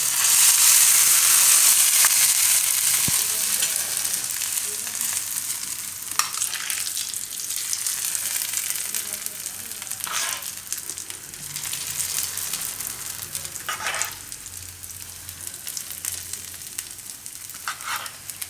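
Hot tempering of sesame seeds, chili and asafoetida in oil poured over palak dhokla, starting with a loud intense sizzle that settles into a steady crackling hiss with occasional stirring scrapes; no one speaks.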